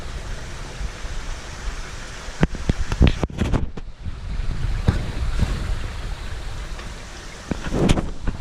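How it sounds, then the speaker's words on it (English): Water rushes and splashes steadily through a pumped aqueduct in an aquarium filtration system, being aerated before it drops into a trickle filter. It makes a broad continuous roar with occasional louder splashes and knocks close by. "The water runs in the aqueduct,"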